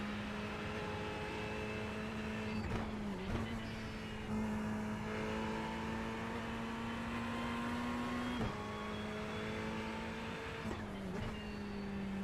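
Ferrari Evo race car in iRacing, a steady engine drone held at high revs with brief dips at gear changes, fairly faint and continuous.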